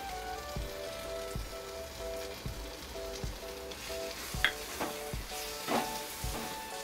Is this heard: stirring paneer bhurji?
yes